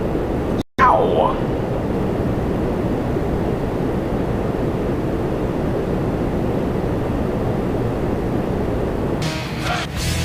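A WestJet Boeing 737-700 departs Toronto Pearson with a loud, steady jet roar. The noise holds broadband for the full length, and one sharp dropout comes near the start.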